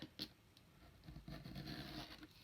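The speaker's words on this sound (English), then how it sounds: "So I'm just going to go ahead and trim this with an X-Acto knife" An X-Acto knife trims paper on a junk journal pop-up, giving a series of soft, close scraping and slicing strokes with light paper rustle, fairly quiet and uneven in rhythm, with no talking.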